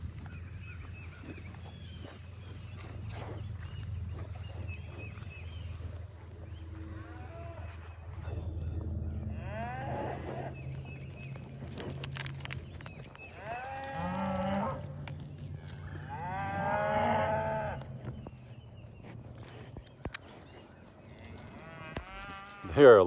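Cows on a farm moo repeatedly in several drawn-out calls, some nearer and some distant, over a low rumbling background with faint calling voices.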